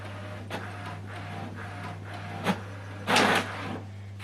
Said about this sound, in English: What it's doing right now is printing the alignment